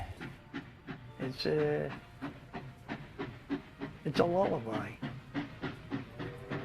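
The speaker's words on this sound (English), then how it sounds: "That steam whistle and the chugging of the locomotive." Steam locomotive passing, remembered from Oklahoma, with a steady clickety-clack chugging rhythm throughout and brief whistle-like tonal bursts near the start and middle, under a person talking.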